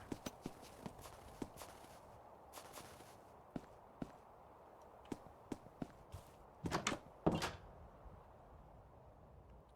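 Footsteps in a Minecraft survival horror modpack, The Great Silence, tap out at uneven intervals, then bunch into a quicker, louder cluster near the end, all over a low ambient hum with no talking.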